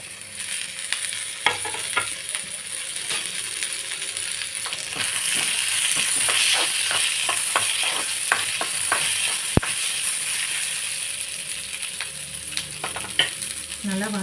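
Onion, tomato and tamarind sauté together in a hot pan for peanut chutney, giving a steady close sizzle with repeated scraping stir strokes throughout and no talking.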